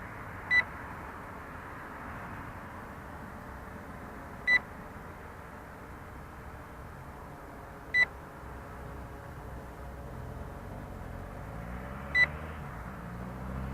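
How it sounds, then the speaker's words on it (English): A Syma X8G camera drone gives a short single beep each time it takes a photo, four sharp beeps spaced about four seconds apart over a steady low whirring hum. "You notice it beeps only one time when you're taking photos."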